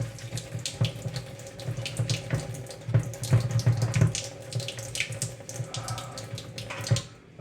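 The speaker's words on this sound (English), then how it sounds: "Got splashing water everywhere." Running water splashes steadily over a mud-covered instrument cluster from a flood-damaged car, a continuous close hiss with uneven spatters and gushes and no talking.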